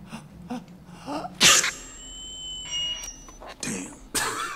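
A single sharp sneeze bursts out close by, followed by thin electronic tones and scattered movie sound, with a person making brief murmurs and reactions around it.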